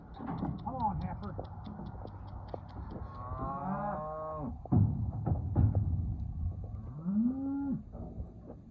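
Cattle mooing close by as a herd of cows and heifers is gathered, several long, drawn-out lows rising and falling, while a person calls to the animals and short repeated ticking sounds come early on.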